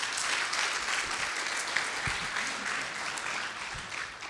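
An audience at an economics panel discussion applauds, sustained clapping from a crowd heard from a moderate distance, filling the whole stretch with a few louder claps.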